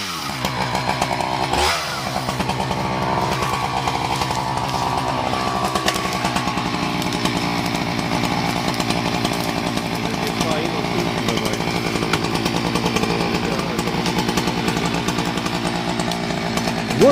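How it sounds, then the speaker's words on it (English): A Husqvarna 395 XPG chainsaw felling a large hybrid poplar, running loud and steady at full throttle throughout with a brief sharp surge near the start, a continuous buzzing roar close by. "One of the pieces of equipment that can be used for felling large trees is the Husqvarna 395 XPG chainsaw."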